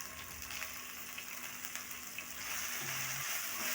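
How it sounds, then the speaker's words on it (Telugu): Tomatoes fry in a pan for chicken curry, giving a steady, close crackling sizzle that swells slightly louder toward the end, with no voices. "వేసుకుని ఒక రెండు మూడు నిమిషాలు బాగా ఫ్రై అవ్వనివ్వాలి"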